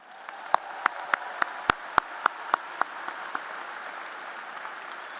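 Scattered, sparse applause for a singer at a college of engineering graduation ceremony, a handful of distinct claps ringing out over a steady room hum before fading to near silence.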